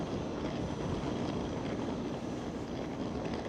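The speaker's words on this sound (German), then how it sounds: "rechts neben uns ist noch ein schöner ICE 3" An ICE 3 high-speed train sits at a Berlin station platform, giving off a steady, loud broadband rumble and hiss that holds without a break.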